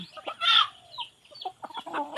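An old hen clucks among her chicks: a louder squawk-like cluck early, then scattered short clucks and thin high peeps, fairly close and clear.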